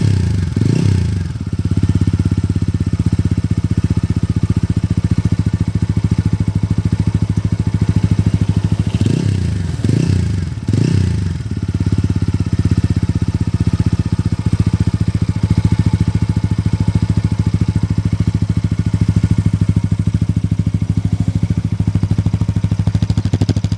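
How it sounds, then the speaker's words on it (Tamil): TVS Apache RTR 200 4V motorcycle idles with a steady, close exhaust thrum, broken by a quick rev near the start and a cluster of three sharp throttle blips around the middle before settling back to idle. "எக்ஸாஸ்ட் நோட் வந்து 200 வந்து எப்படி இருக்குன்றத வந்து கேட்டு"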